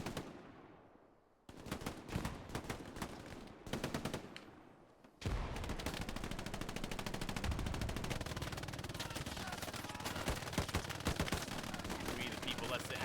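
Machine gun fire in the World War II shooter game Hell Let Loose: short bursts after a quiet start, then a long sustained rattling stream of rapid shots, loud and close.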